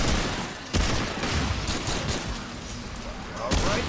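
Gunfire in the video game Remnant II, a few sharp, loud bursts over a continuous rumbling battle din.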